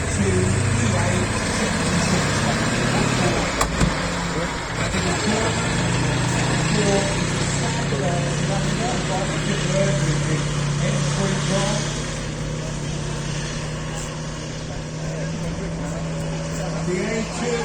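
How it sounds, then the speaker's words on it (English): An M4A2 E8 Sherman tank's twin diesel engine idles steadily with a low, continuous rumble at an outdoor tank museum event, running under the whole stretch with background crowd noise. "This has a twin diesel engine."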